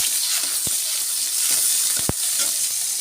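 Garlic paste sizzles steadily in hot oil in a pan, a continuous bright frying hiss broken by a few sharp clicks as a utensil stirs it.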